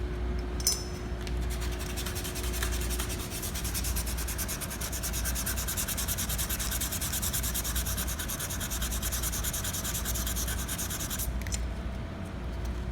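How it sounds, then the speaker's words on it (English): Worn sandpaper rubs steadily against the end of a small workpiece being prepped for acid-core soldering, a continuous close scratchy hiss with no pauses and no speech. "And now I sand the end."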